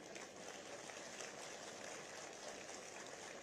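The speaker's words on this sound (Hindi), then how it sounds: "जोर से ताली बजाइए" A large crowd applauds at the Uttarakhand state foundation silver jubilee ceremony in Dehradun after a police parade. The clapping is a steady, dense wash that sounds faint and distant throughout, with no voices over it.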